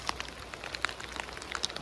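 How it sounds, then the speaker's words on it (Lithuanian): Rain patters steadily on a surface outdoors during a river kayaking trip on the Nemunas, with scattered drops ticking over a soft continuous hiss, fairly faint and with no talk. "Čia Lietuva, čia lietus lyja."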